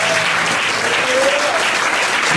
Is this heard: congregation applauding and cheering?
yes